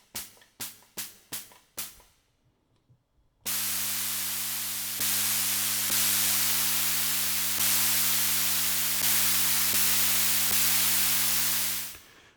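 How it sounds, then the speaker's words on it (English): A Roland TR-606 drum machine hi-hat, processed for longer decay: a few short, quick ticking hits, a brief pause, then a long sustained hiss of noise with a low hum under it, loud and alone until it cuts off. "It's definitely sounding a bit more like a hi-hat now"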